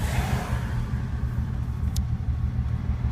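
A Datsun 280Z with a stroker turbo engine cruising at speed with the windows up, giving a steady, loud low rumble of engine and road noise throughout and a brief high click near the middle.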